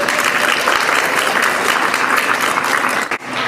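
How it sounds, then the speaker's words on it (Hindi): Dense, loud applause from parents, guests and students filling a hall at a school annual day celebration, steady and sustained throughout before dipping briefly near the end. "Let's give them a big round of applause for our teachers and students."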